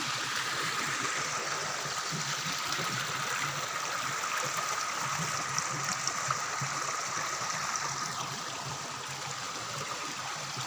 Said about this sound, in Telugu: నీటి ప్రవాహం ఎప్పుడూ నీటి ప్రవాహం వస్తూనే ఉంటుంది